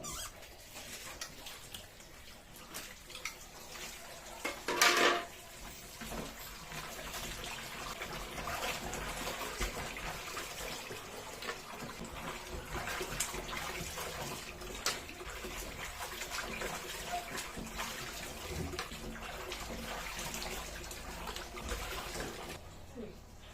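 Cleaned, gutted catfish are rinsed in water, with steady sloshing, trickling and splashing that runs on for a long stretch, close by and moderately loud, with one sharper splash early on.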